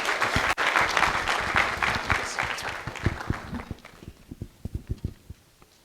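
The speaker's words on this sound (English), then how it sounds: "let's give a round of applause for Dr." Audience applause for a speaker at a medical research mentorship event, a full round of clapping that gradually thins out into scattered individual claps near the end.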